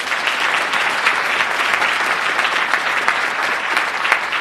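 Loud, steady audience applause at a mayor's State of the City address for the school superintendent, a continuous dense wash of many hands clapping with no break.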